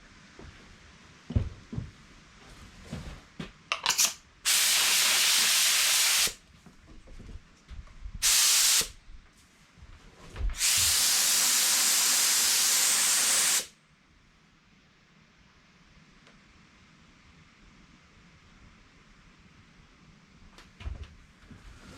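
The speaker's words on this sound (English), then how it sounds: "I got this transparent purple in this gun that I'm going to kind of shadow the edges of it with." A paint spray gun sprays transparent purple paint over the edges of a stripe on a Pontiac Vibe, producing several loud, close bursts of steady hissing, one long and a few shorter, separated by quieter handling noises.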